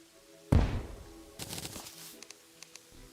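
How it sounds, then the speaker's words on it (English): An explosion in the video game Terraria, a single sharp low boom that decays quickly, followed by a few smaller crackling hits and faint clicks. "Perfect explosion."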